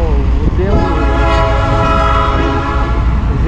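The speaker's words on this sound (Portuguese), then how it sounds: "Vamos esperar o trem passar." A train passes close by, blowing a loud, sustained horn over the steady rumble and clatter of rail cars.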